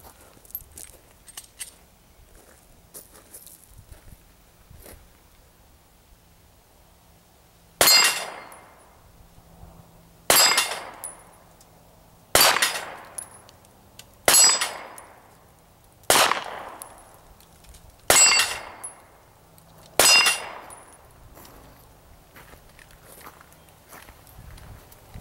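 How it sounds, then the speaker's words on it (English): Seven sharp shots from a Smith & Wesson M&P 9C pistol ring out at a shooting range, spaced about two seconds apart after a quiet start. Each crack is loud and close, with a short ringing decay. "I'm going to go ahead and turn around and go to the range and shoot it"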